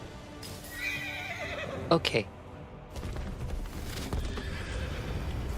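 A horse in the open-world game Where Winds Meet whinnies briefly near the middle, loud and close, with faint hoof clip-clops and game ambience around it; a player speaks a short word nearby.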